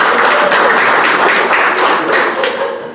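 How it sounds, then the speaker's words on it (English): Comedy club crowd clapping in Lexington, Kentucky, a burst of scattered applause from parents in the audience, loud and steady before tapering off at the end. "Clap if we have any parents of school-aged children in the room tonight."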